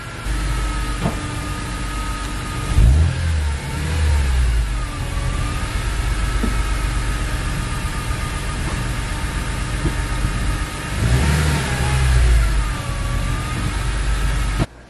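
A BMW E46 M3, converted from SMG to manual and up on jackstands, runs at a loud, rough idle close by, with two brief rises in engine speed while the gears and clutch are tested.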